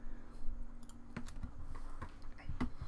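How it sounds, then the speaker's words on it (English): A computer keyboard is tapped at close range with irregular, light clicking keystrokes. A faint steady hum sits underneath. "I'm going to type in"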